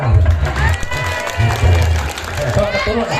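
A live audience claps and cheers for the comedian Kang Oha at a Sundanese comedy show, applause rolling steadily throughout while voices carry over it.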